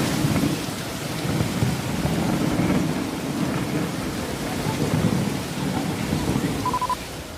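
Heavy rain pours steadily over the Dwarkadhish temple in Dwarka, Gujarat, with low rolling thunder rumbling beneath the dense hiss throughout a storm.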